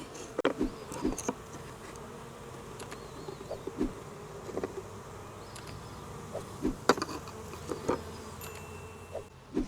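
Honey bees from a package buzz around an open hive during installation, a soft continuous hum with individual bees droning close past in brief louder passes.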